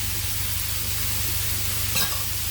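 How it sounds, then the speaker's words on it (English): Shrimp, meat and sausage fried rice ingredients fry in a wok, a steady soft sizzle continuing evenly throughout with a brief sharper burst near the end. "I've been frying it for 5 minutes."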